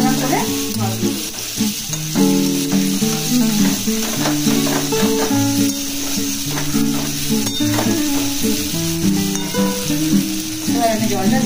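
Fried potatoes are stirred in a curry pan, a loud close sizzle under prominent music with occasional scraping of the spoon against the pan.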